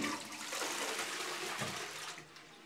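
An upstairs toilet flushing, a steady broadband rush of water that holds for over two seconds and then begins to taper off near the end.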